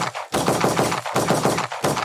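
Rapid bursts of automatic gunfire in the shooter game Valorant, three loud close volleys with brief pauses between them and no talk.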